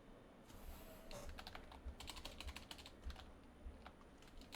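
Rapid keystrokes clatter on a computer keyboard in steady, quick bursts, fairly faint with a low background hum and no talking.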